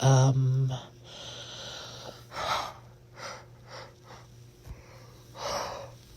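A long, drawn-out yawn with a voiced groan at the start, followed by several breathy exhales and sighs.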